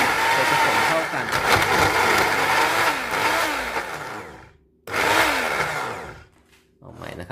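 A blender whirs through a coffee smoothie with banana and chocolate protein, its motor roaring loudly in bursts that rise and sag in pitch as it labours, cutting out briefly twice before starting again.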